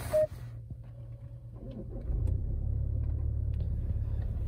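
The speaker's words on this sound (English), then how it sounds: "So I'll start up the car now" A Jaguar E-Pace 2.0 D180 R-Dynamic diesel fires up: a brief chime and starter crank, then after a couple of seconds the engine settles into a steady, moderately loud low idle rumble heard from inside the cabin.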